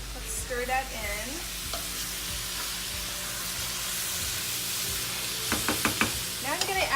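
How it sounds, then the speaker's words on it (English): Drained canned tomatoes stirred into a simmering chicken spinach curry, with a soft continuous sizzle and scraping spoon strokes in the pot, a few sharper knocks near the end, close and fairly quiet with no talking. "2 cans of tomatoes here that I'm adding. And let's stir that in."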